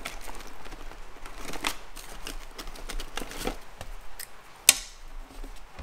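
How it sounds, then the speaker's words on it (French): Scissors cut paper for a pop-up mountain-scene card in a close, quiet room, giving scattered crisp snips and rustles with one sharp click near the end. "vous allez prendre des ciseaux"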